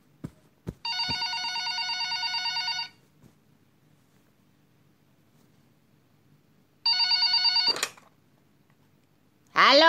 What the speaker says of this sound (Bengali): ফোনটা বেজে উঠল